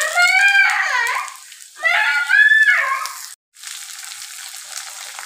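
Moringa drumsticks frying in a pan with onions and oil, a steady close sizzle with bursts of crackle, briefly cut to silence before the frying resumes.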